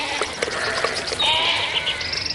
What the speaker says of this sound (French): des bergers font paître leurs moutons et leurs chèvres